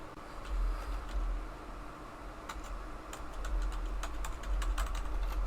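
Keys clatter on a computer keyboard in quick irregular bursts of clicks, close by over a low steady background hum, with no voices.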